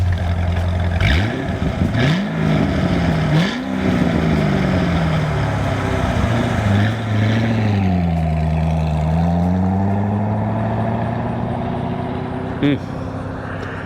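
2007 Chevrolet Corvette Z06 passing by: a deep engine revs up and falls back several times, then a long smooth sweep as the car goes past. Someone talks over it for much of the time.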